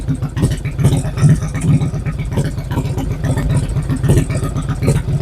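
Cold motorcycle engine with a K&N filter, an un-jetted carburetor and old gas, idling while it warms up: a steady, slightly uneven low rumble that runs without a break.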